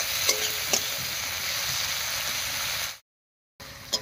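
Chopped tomato frying with browned onions in a pan, a steady close hiss and sizzle with occasional spatter pops, then a brief cut to silence before the sizzling resumes.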